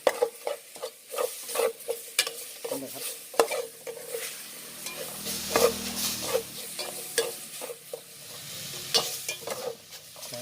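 Pork belly and water-meal curry is stirred in a pot, with repeated scraping and clanking strokes of the utensil over a gentle sizzle, close and fairly loud.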